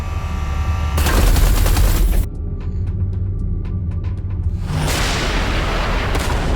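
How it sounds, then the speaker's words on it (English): Heavy artillery fire and explosions in the space-combat game Everspace 2, loud booming blasts with a sharp burst of shots in the middle and dense rumbling impacts around it, with no talking. "Watch out, the artillery"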